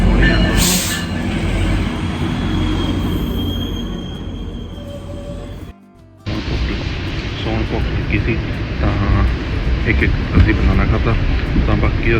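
A GO commuter train pulls into Union Station in Toronto, its loud rumble and squealing wheels filling the platform, broken by a brief drop near the middle, while a person talks over it.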